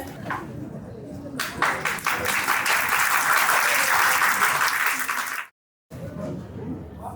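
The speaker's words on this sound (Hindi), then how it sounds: "जोरदार तालियां।" An audience at a book launch ceremony bursts into loud sustained applause, a dense wave of clapping that swells and then cuts off abruptly, followed by quieter room sound and a speaking voice.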